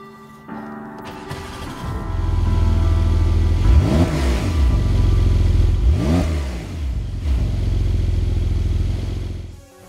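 A Porsche 992-generation 911 Carrera 4S, fitted with a particulate filter, revs loudly and close by, its engine note rising and falling through two sharp sweeping revs over a sustained idle-to-mid-rev roar.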